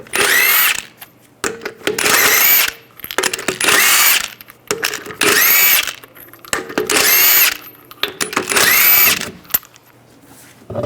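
Impact wrench with a 22mm socket removing lug nuts from a rear wheel of a 2008-2017 Buick Enclave: six loud, close whirring-hammering bursts of about a second each, separated by short pauses, with no talk.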